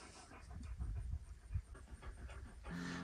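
Dogs panting steadily on a quiet hiking trail through an old battlefield field, quick rhythmic breaths close to the microphone with faint outdoor hiss and no talking.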